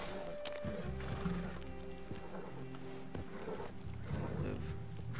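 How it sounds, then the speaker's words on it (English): Horses in the Red Dead Redemption 2 video game clip-clop steadily and neigh during a stagecoach robbery, with hoofbeats and whinnies layered over continuous game sound at close range. "I want to get these horses out of here."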